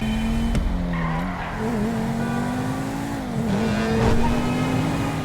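A racing car engine in GTA V hums continuously at a steady, slightly wavering pitch, rising and dipping a little with throttle, with no talking.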